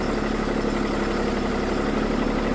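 A heavy engine idles with a steady, low, throbbing rumble, close and unchanging throughout.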